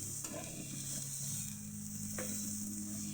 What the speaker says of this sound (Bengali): কিছুক্ষণ ফ্রাই করে নিলেই রেডি হয়ে যাবে আমাদের মূলো শাক ভাজা